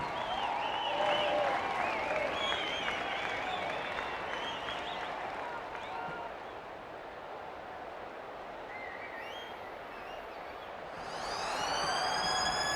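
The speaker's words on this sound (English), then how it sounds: "That's the halftime siren." A rugby league halftime siren sounds in the St George Illawarra Dragons versus Cronulla Sharks match, a long sustained wail over a roaring stadium crowd, with commentary talking over it.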